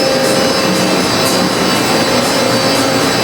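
Twin-turbocharged 16-cylinder Caterpillar 3516B engines run in the engine room of a 240 ft superyacht, giving off a loud, constant broadband roar with a high whine and no break.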